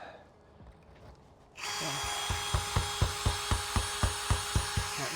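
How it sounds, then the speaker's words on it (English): A power drill without hammer action starts up and grinds into a stucco wall with a continuous whine and regular rhythmic knocking pulses as the bit bites in, loud and close, after a quieter stretch where a voice briefly speaks. "This drill bit might be hard to push through."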